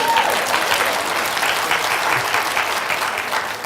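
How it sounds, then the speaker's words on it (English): Steady applause from a lecture audience at a talk on Universal Design for Learning, a dense, even wash of many hands clapping, fairly loud and close throughout. "Go ahead and clap."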